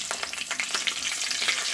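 Panch phoron, bay leaf and three green chillies dropped into hot oil, crackling and spitting in a dense, bright sizzle with quick popping bursts close by.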